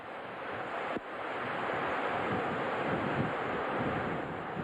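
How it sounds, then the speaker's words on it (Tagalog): Strong wind and rain of Super Typhoon Megi roar steadily and close, a dense broadband rush with gusting surges and one sharp thump near the start. "Lalong lumakas ang hangin at ulan."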